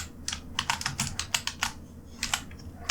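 Fingers type on a computer keyboard in a quick, irregular burst of close clicking keystrokes with short pauses, then a few more taps near the end.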